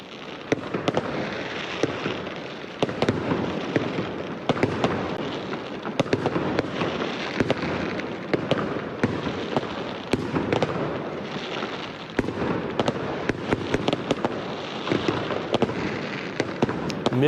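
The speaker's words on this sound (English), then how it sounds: "Fireworks were set off, celebrating the historic win." Fireworks celebrating a presidential election win pop and crackle continuously in dense bursts, a steady barrage of sharp bangs at middle distance with no pause.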